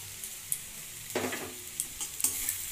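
Crushed dry chilli is stirred into greens cooking in a pan: a soft sizzle with a few brief scraping stirs, faint and close.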